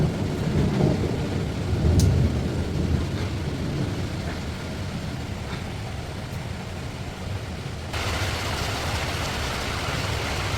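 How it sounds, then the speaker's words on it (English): A thunderstorm with rain in Thailand: a dense, steady hiss of rainfall with low rumbling thunder swelling early on, continuous and fairly loud with no voices. "There was a thunderstorm every afternoon, and I'll insert some of the clips I have from that here."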